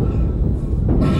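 A steady low rumble of a tram rolling along in the video game Dead Space, with a dense mechanical hum that thickens slightly toward the end; no talking.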